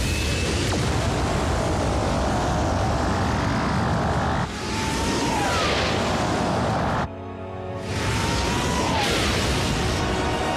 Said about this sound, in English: Full thruster burn.